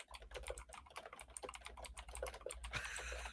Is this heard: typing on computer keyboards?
yes